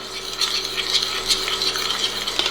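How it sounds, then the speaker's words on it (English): A mustard chicken wing sauce of Worcestershire, brown sugar, pepper and salt simmers in a pot while being stirred, giving a steady soft bubbling with repeated light scraping strokes, close and moderately loud, with no voices. "Continue to stir. Let it simmer for about 5 minutes."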